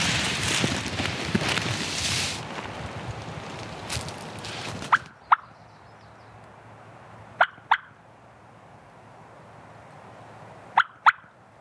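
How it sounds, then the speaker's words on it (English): A Merriam's turkey gobbles in short, sharp bursts, mostly in pairs, three times at moderate distance in quiet brushy country, after a stretch of broad rustling noise at the start. "He was gobbling at every call"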